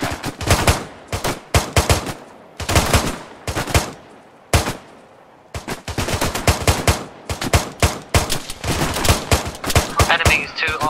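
Rifle gunfire during a military exercise: loud, close bursts of sharp cracks in rapid runs, with brief pauses between volleys and a short lull near the middle before dense firing resumes.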